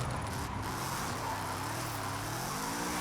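Drift car from Forza Horizon 5 spinning a full 360 on a turn: a loud, continuous engine roar with steady revving tone and tire noise throughout, no voices.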